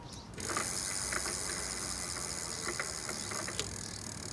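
A faint, steady high-pitched whine from a spinning e-bike electric hub motor, with soft ticking and clicking underneath.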